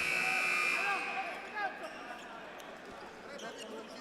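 At the close of a 2023 MPBL preseason basketball game between Nueva Ecija and Valenzuela, an end-of-quarter buzzer blares loud and steady, then fades into crowd noise and arena din.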